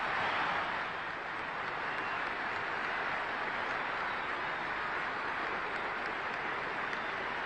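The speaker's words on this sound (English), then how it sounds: "just listen to that crowd" A cricket crowd applauds Garry Sobers as he leaves the ground after his innings of 254, a steady, dense wash of clapping that holds evenly throughout, distant and moderately loud.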